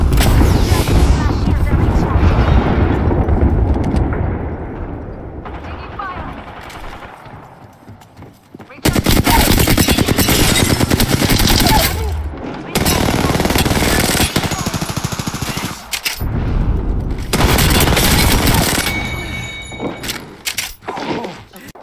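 Apex Legends weapons fire in loud, dense rapid bursts through the middle and later part, separated by short pauses and preceded by a rumbling lead-in of game noise.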